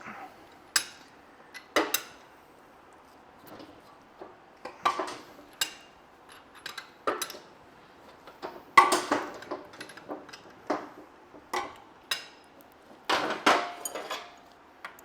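Impact wrenches working on the suspension of a BMW E39 540i in a garage, sounding as repeated short sharp rattling bursts, some overlapping, separated by brief pauses, with clanks of tools between them.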